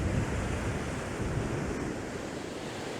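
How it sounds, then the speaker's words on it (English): Ocean waves roll in and crash over coastal rocks, a continuous loud roar of surf with wind noise buffeting the microphone throughout. "now as you can see I'm waiting for sets of waves to come in and crash over"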